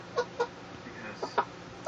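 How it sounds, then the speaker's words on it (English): A pet hen clucks several short soft times close by, spaced irregularly over quiet background. "There's my chicken."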